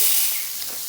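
Button mushrooms fry in butter in a pan with a brief, steady, close hiss and sizzle, alone with no voice.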